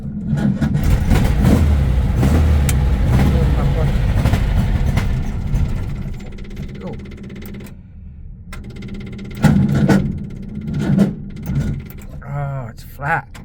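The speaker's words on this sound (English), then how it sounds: "start it up to keep the battery going" A Volkswagen Baja Bug's engine is cranked on a flat battery, the starter churning on and off without catching while people talk over it, then short pauses and fresh attempts.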